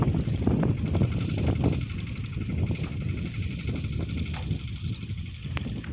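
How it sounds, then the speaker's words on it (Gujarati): Strong wind buffets the microphone outdoors on a foggy morning near a chickpea field, a steady low roar with gusty surges running throughout and no talking. "પવન પણ જોરદારનો આવે છે અત્યારમાં."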